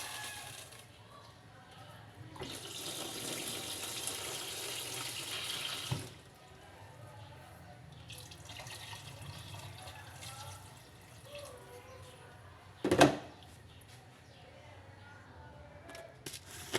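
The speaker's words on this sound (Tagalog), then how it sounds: "Water." Water runs from a tap in a steady, hissing stream for several seconds, then eases off. A sharp clink follows later, with faint voices and household noise in the background.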